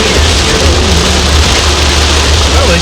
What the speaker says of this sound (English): at least you got your Florida experience of what an actual heavy rain downfall is. While driving.